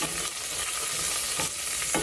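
Green chillies frying in hot ghee in a pan for chicken 65 biryani, a steady close hiss and sizzle with a few louder bursts of crackling.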